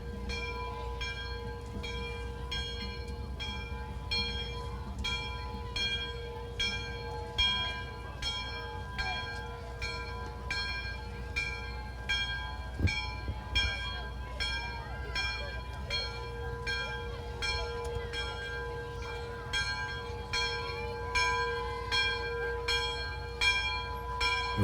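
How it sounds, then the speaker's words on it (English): A bell rings repeatedly in a steady, regular rhythm during a Christmas parade in Kannapolis, each strike clear and evenly spaced over a constant low hum, with voices faintly present. "Ringing in Christmas with the bell there."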